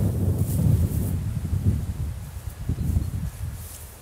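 Steady low wind buffeting the microphone high on a hilltop viewpoint, rumbling and gusting for the whole stretch, with no voices.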